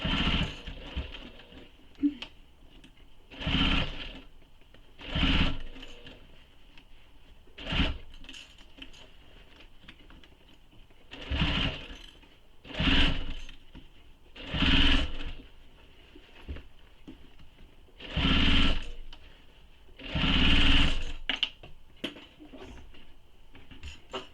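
A sewing machine stitches a leather satchel in repeated short bursts of whirring, each lasting about a second and separated by pauses, close and moderately loud, with a voice talking faintly between runs.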